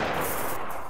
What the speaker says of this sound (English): I'm about to throw a flash.